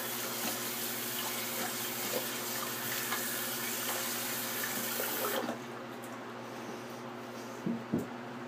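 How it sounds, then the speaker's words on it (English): Tap water runs steadily as hands are rinsed under it at a bathroom sink after a shave, a continuous close hiss that cuts off partway through, leaving quieter room sound with a couple of small knocks. "Let me rinse my hands off here."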